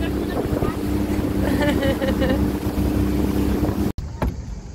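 Motorboat engine drones steadily while riding across the sea off Lefkada, with wind buffeting the microphone and a brief dropout near the end.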